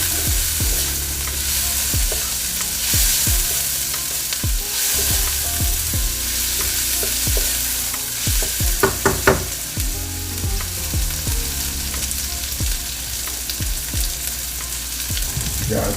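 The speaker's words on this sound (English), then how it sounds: "And just let that saute for just a little bit." Green pepper sautés in a hot pan for brisket lo mein, a steady close sizzle with repeated scraping stirs and clacks of a utensil throughout.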